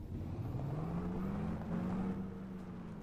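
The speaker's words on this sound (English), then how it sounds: "We'll take the truck down" Truck driving in Farming Simulator 25, a steady engine drone with a slowly rising pitch like gradual acceleration, continuous and close with no talk.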